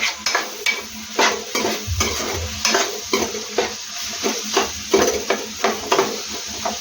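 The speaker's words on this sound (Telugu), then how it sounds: "ఇప్పుడు ఈ మొత్తాన్ని వేసి బాగా కలిపేద్దాం." Blood fry stirred in a pan with ginger-garlic paste, cinnamon and cloves, brisk repeated scraping strokes of a spoon against the pan over a continuous sizzle, close and fairly loud.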